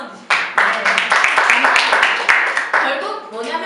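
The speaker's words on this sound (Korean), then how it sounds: "두 분께 박수 한번 주십시오" An audience applauds two presenters at a company new-hire presentation, steady clapping rising abruptly and continuing for several seconds, with a voice speaking over it toward the end.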